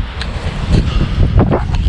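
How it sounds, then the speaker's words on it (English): Strong wind gusting during a snowstorm, a steady, loud roar buffeting the microphone with low rumbling surges and no voices. "the wind is blowing hard"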